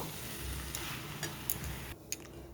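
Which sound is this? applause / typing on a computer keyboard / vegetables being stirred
vegetables being stirred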